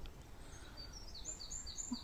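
A small bird sings among very old trees, giving a few faint, high, distant chirping phrases over a quiet outdoor rumble. No voices are heard.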